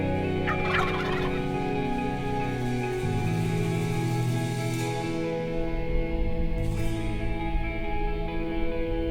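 Wild turkeys gobble during a Wisconsin turkey hunt, rattling calls rolling out in overlapping bursts over a constant chorus of other birds, fairly close and loud with no talking.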